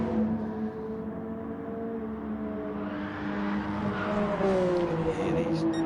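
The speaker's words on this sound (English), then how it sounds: "You can hear these cars trying to break loose around these fast turns" Video game race cars on fast turns at Blue Moon Bay, engines whining at high revs, rising in pitch as they accelerate, moderately loud with a steady droning layer beneath.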